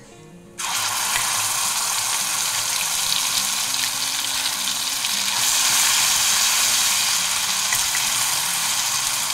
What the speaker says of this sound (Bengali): এটা একটু ভেজে নেবো, কটা কাঁচা লঙ্কাও দিয়ে দেবো।